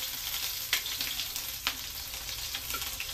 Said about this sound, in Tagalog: Igisa lang natin yan.